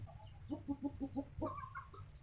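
A Thai fighting rooster gives a close run of five quick, evenly spaced clucks. A longer, rising cackling call follows against a low background hum.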